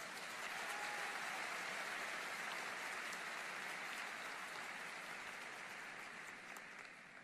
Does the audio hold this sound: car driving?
no